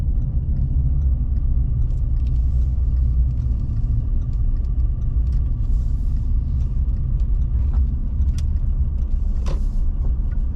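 A car rolls along a dry, dusty dirt road in Tasmania, heard from inside as a constant low engine and tyre rumble with occasional small knocks and rattles from the gravel.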